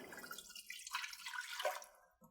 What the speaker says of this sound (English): So we're going to pour the water in.